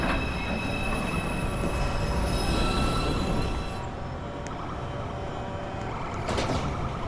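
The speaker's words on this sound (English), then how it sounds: "Downtown. Express. 2 train. Approaching the station, please stand away from the platform edge." A downtown 2 express train on the New York subway pulls into a station with a loud, steady rumble and a high wheel squeal that fades as the train slows. Faint clanks follow near the end.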